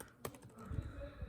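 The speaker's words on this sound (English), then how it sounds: "So you're going to type sudo" A few quick keystrokes on a computer keyboard while a terminal command is entered on a Hackintosh, light clicky taps close by and moderately quiet against a low background hum.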